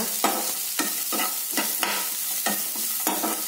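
Chicken sukka frying in oil with garlic in a mud pot, a loud steady sizzle broken by repeated scraping stirs at a regular pace, close up and with no talk.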